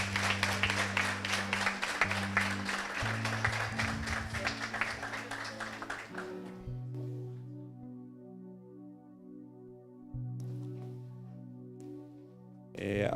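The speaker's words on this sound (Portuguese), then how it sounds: "com aquela salva de palmas calorosa" Church congregation applauding a first-time visitor during a worship service: dense, warm clapping for about six seconds, then fading into sustained organ-like music tones.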